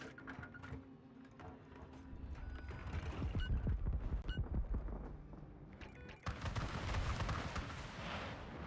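Video game explosions and heavy impacts boom in a chaotic burst of repeated blasts, loud rumbling hits through the middle and another surge toward the end.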